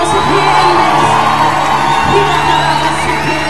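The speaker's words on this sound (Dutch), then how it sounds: "Allergrootste applaus wat je ooit hebt gegeven" A large audience roars with cheering, whoops and shouting, loud and continuous like a packed crowd, with a hint of sustained music or organ tones underneath.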